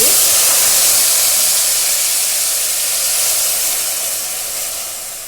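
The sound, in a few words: jaggery water poured into hot ghee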